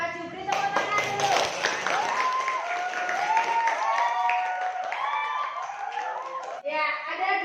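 Students in a classroom clap together in a lively burst while children's voices chatter and call out over the applause, which stays loud and close before tapering at the end.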